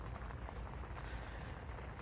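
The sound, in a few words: rain falling on fishing camp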